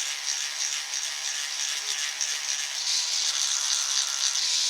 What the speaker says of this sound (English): It's like having a little miniature DA sander.